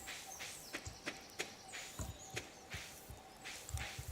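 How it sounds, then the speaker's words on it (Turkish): Soft rhythmic scraping thuds repeat steadily, like digging in dirt, in the video game Stardew Valley, quiet and close with a faint background hum. "Birisi bir şey kazıyor."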